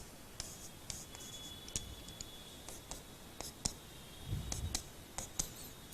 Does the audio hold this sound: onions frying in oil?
no